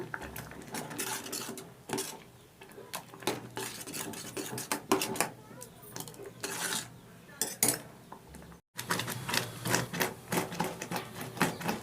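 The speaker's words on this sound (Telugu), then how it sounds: "బనానా అరపండు గుజ్జు వేసేస్తున్నాను దీంట్లో కలిపేసుకోవడమే" Chicken paste and mashed half-banana being mixed together in a bowl, with repeated clinks and scrapes of a utensil against the bowl in a steady, busy rhythm and no talking.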